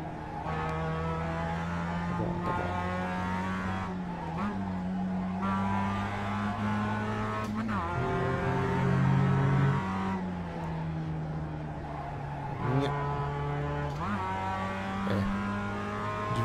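A Mazda MX-5 race car on the Nordschleife in the iRacing simulator, its engine droning loudly and continuously in one gear, the pitch rising and falling as it accelerates and eases off, with brief dips at shifts or lifts.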